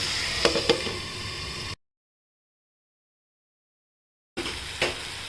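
Spiced vegetables sautéing in a pan with garam masala, turmeric, red chilli powder and salt give a soft steady sizzle, with a few sharp stirring clicks near the start and again near the end. A long silent gap splits the sound.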